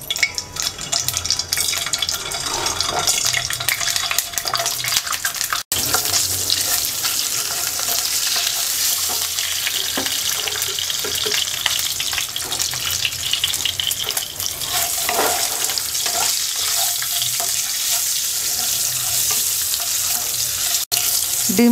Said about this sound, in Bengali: তেলটা গরম হয়ে গেছে, ডিম দিয়ে দিচ্ছি